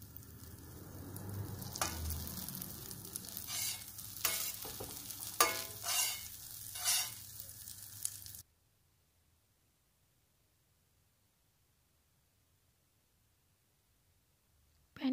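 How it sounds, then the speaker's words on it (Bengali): Butter sizzling in a hot pan for a quesadilla, a soft crackling fry with a few sharper bursts for about eight seconds before cutting to near silence. "এখন আমি একটা গরম প্যানে কিছুটা বাটার ছেড়ে দেব।"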